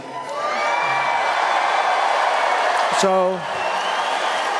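A large crowd at a political rally town hall cheers and shouts in a loud, steady roar, with a voice briefly speaking over the noise.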